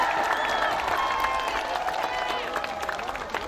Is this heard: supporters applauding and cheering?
yes